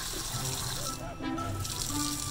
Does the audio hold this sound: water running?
yes